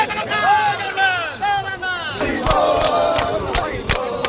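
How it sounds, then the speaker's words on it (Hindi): A large crowd of devotees gathered at Puri for the Sunabesha festival, loud chanting voices and shouts filling the air, with rhythmic sharp percussive strikes from a kirtan group cutting through the crowd noise. "बट बहुत भीड़ अच्छी"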